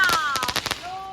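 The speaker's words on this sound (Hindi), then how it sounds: "हाथों में बम फोड़ रहे हैं" Diwali firecrackers burst in a quick rapid string of sharp pops, several cracks bunched together over about a second, with a whistling tone gliding through and fading afterward.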